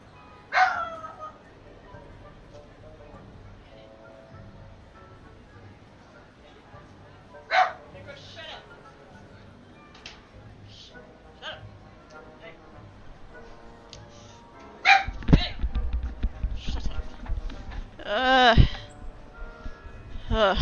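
A dog in the room barks and yips in scattered sharp bursts over the quieter sounds of a Hogwarts Legacy game, with more frequent, louder barking near the end.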